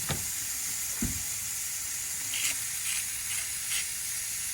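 Top sirloin steaks sizzle steadily on a Eureka SPRK camp grill, a constant close hiss with a few soft knocks and brief flares in the crackle.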